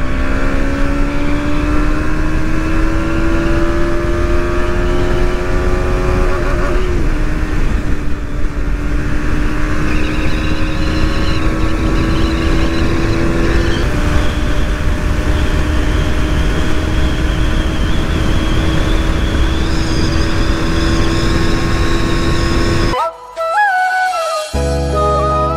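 A KTM Duke 200 BS6 motorcycle accelerates hard on a top speed run, its loud close engine drone climbing in pitch through several gear shifts before cutting off abruptly near the end.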